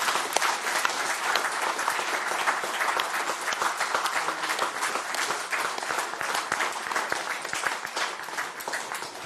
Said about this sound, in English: an applause for these fantastic people